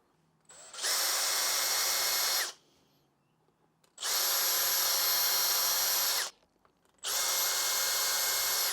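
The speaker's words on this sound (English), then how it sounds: "the holes on the pickguard are actually slightly small, so let's drill those out a little bit" Three bursts of a high-pitched power drill whirring at close range, enlarging holes in a Stratocaster guitar pickguard, each lasting about two seconds with short pauses between.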